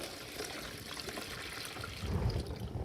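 Hot water poured into a pail for an ankle-deep foot-soak treatment, a steady trickling pour that swells louder and heavier near the end, with no talk.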